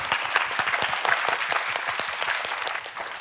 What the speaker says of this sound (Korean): 자, 목사님 떨리지 않게 큰 박수로 맞아주시죠.